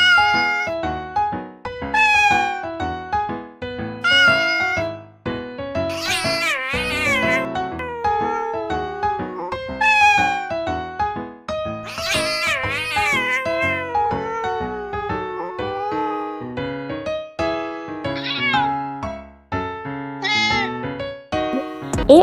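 An AI-generated cat meows repeatedly in clear, close, loud calls, some drawn-out and wailing like a caterwaul, with short pauses between them and no talking.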